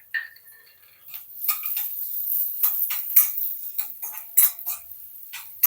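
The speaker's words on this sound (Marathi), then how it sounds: "कांदा परतत असताना आता त्याच्यामध्ये आपण लसूण टाकूया" Onion and garlic sauté in oil in a kadhai, a thin sizzle broken by scraping and clinking stirs of a spoon against the pan.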